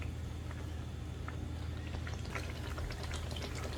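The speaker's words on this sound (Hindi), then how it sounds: "अब इसके अंदर मैं तकरीबन आधा किलो पानी ऐड कर लूँगा।" Water poured into a pot of chicken qorma after the meat has been sautéed, a continuous close splashing and gurgling over a low rumble, with no talking.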